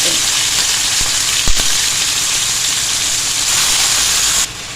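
Chicken pieces frying in a pan for an Afghani chicken gravy, a loud steady sizzling hiss throughout with a brief low knock near the middle, dropping in level just before the end.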